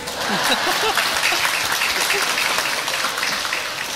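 Loud, continuous applause from a crowd at a charity gathering, dense clapping throughout with voices audible beneath it.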